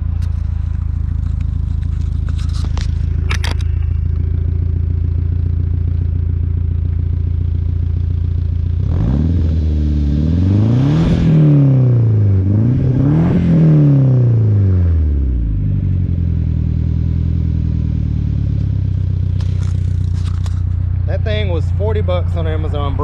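A 2G 420a turbo car engine breathes through a cheap Amazon muffler, holding a loud steady idle before two rising-and-falling revs swell and drop back, with brief clatter at the start and end.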